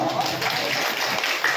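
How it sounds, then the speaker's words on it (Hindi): Loud, dense applause from a crowd gathered for a Hindi Bhagavat katha religious discourse, sustained clapping throughout with a voice faintly underneath. "जोरदार ताली बजावा"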